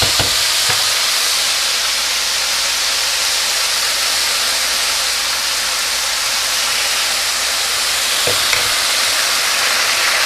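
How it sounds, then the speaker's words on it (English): Steady, dense sizzling of chicken stock hitting a hot risotto pan, a constant bright hiss with a few faint clinks, no voices. "You can really hear that sizzle."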